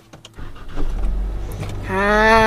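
A 2019 Nissan Serena 2.0L CVT S-Hybrid starts with its push-start button: soft clicks and a brief whir, then a rising tonal electric hum with a steady low rumble settling in at the end.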